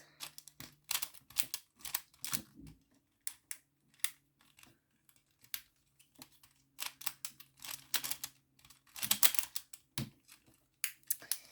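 A Pyraminx puzzle twisted rapidly by hand during a solve, producing dense bursts of sharp plastic clicks and clacks in quick irregular runs, with brief pauses between flurries, close and fairly quiet.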